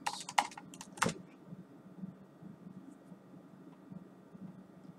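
A brief flurry of computer keyboard keystrokes in an office, a few quick clicks at the start, followed by a low steady room hum with faint soft thumps.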